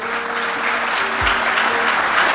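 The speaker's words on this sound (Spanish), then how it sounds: "¿Cuántos aplauden a la palabra de Dios?" A church congregation applauds during a sermon, a loud, continuous roar of clapping heard up close and holding steady for a couple of seconds, with a faint tonal hum underneath.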